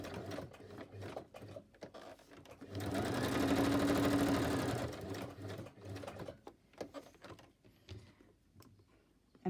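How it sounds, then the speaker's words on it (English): A sewing machine stitches around the edge of old book pages, whirring loudly in one sustained run of a couple of seconds, with softer clicks and handling noises before and after. "I'm going to stitch around the edge"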